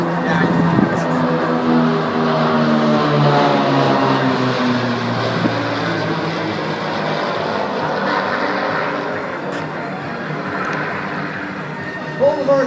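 Airshow aircraft diving down in formation with smoke on, a loud roaring engine rush that swells and fades across the sky, heard from the ground at some distance.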